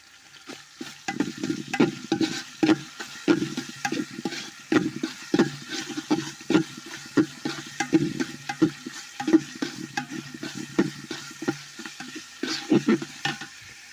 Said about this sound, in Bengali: দিয়ে দিলাম 2টো তেজপাতা ছিঁড়ে ছোটো ছোটো করে